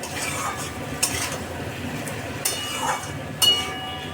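Fried poppy seeds and eggplant get stirred in a pan, producing a soft steady sizzle with a few sharper scrapes and clinks of the utensil against the pan.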